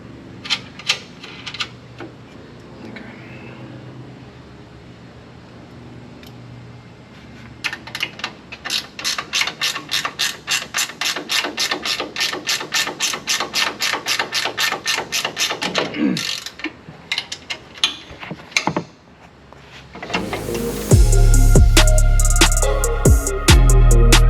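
A ratchet wrench tightens bolts during a Koni lift kit install on a 2022 Nissan Frontier Pro-4X, with runs of rapid close clicking, pauses and clanks, ending in a louder burst of mechanical noise.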